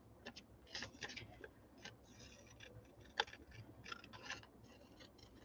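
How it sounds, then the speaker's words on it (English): Scissors snipping out a paper teacup shape, a quiet series of crisp, irregular cuts close by with no talking. "So we're going to cut it out."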